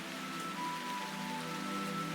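Rain in the Root Letter: Last Answer game falls as a steady, even hiss of drops on a surface, alone and constant, with a faint sustained tone running underneath.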